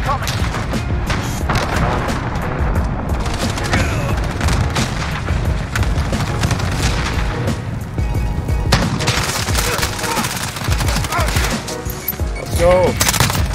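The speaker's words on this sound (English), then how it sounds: "Enemy cruise missile incoming." Dense barrage of explosions and booms from a cruise missile strike in Call of Duty: Modern Warfare, with heavy overlapping gunfire and rumbling blasts filling the whole stretch, loud and continuous.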